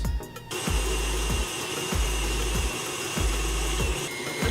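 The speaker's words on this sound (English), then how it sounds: "you are going to mix this on medium-high speed with whatever mixer you have until the butter and sugar is really light and fluffy" An electric mixer creams butter and sugar at medium-high speed, running as a loud, steady motor drone. The beaters knock against the bowl in a regular rhythm about every second.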